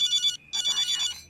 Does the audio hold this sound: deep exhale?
no